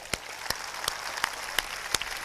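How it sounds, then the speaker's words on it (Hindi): Audience applause for a poem's author sounds as a faint wash of clapping, punctuated by six evenly spaced, sharp rhythmic claps roughly every third of a second apart. "एक बार सभी लोग इस कविता के रचयिता कन्हैयालाल सेठिया जी के लिए जोरदार तालियां बजाएं"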